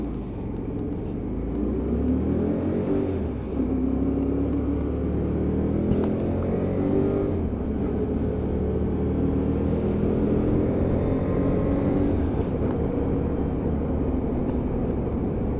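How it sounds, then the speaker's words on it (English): A Hyosung GT125R motorcycle engine idling low around 1500 RPM, then revving in a few rising and falling surges, a steady close-up rumble with no talk. "that nice low idle, about 1500 RPM on the tick over on this one"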